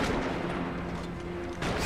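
Sniper gunfire in the video game Max Payne 3, heard as a dense, roaring wash of shots and booms that holds steady throughout, with a renewed burst at the very end.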